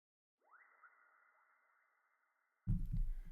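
A soft synth whistle with heavy reverb slides upward in pitch and then sustains as a thin, faint tone, before a sudden loud burst of full music cuts in.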